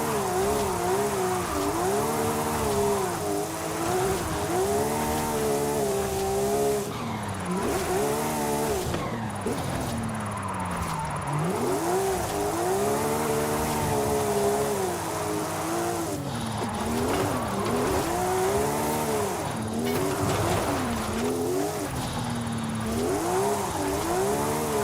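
A Porsche engine roars continuously while the car drifts in the racing game Forza Horizon 5, its revs rising and falling in repeated sweeps, loud and close, with no talking over it.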